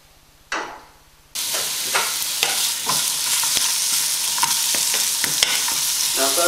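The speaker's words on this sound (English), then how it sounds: "Now if those onions are cooking," Onions fry on a barbecue, first a brief clatter, then a loud, dense sizzle that starts abruptly and runs steadily, with regular scraping knocks of stirring close by.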